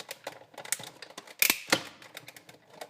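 A Big Shot die-cutting machine runs a paper die through its rollers, giving a sequence of sharp clicks and cracks with two loud snaps near the middle, close and fairly quiet.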